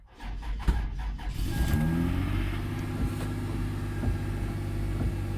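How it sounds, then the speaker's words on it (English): A car with a dead battery, hooked to a jump starter, cranks briefly and catches, then settles into a steady, rumbling idle that runs on close by with no talk. "Okay, I'm going to try to start the car now."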